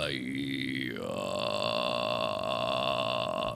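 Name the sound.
vocal fry grunt sound made by singer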